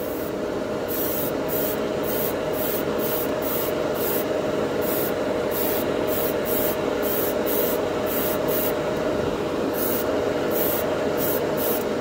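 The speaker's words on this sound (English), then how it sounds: "This is over the bare metal spray can." A steady, continuous hiss of Tamiya clear color aerosol spray paint over bare metal, loud and close, running the whole time with a faint rhythmic ticking above it.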